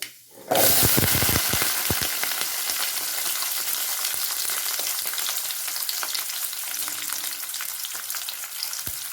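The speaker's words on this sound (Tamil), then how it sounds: "வெங்காயத்தை நல்லா வணக்கிக்கலாம்" Fenugreek seeds and small shallots with mustard seeds sauté in hot oil in a pan. After a brief quiet start, a loud, dense sizzle sets in and holds steady to the end, with occasional crackles and no voices.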